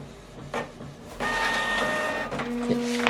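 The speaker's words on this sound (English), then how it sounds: "we are printing this document double-sided" A Canon printer runs a double-sided print job from a laptop, with a brief mechanical whir, then a steady louder feed-and-print drone with high-pitched motor whines and clicks that continues without a break.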